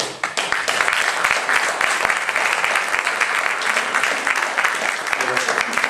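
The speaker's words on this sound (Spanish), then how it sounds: "pido un aplauso" Audience applause fills a hall at a secularism day event in Madrid, dense steady clapping sustained throughout at close range, with some speech-like murmur mixed in.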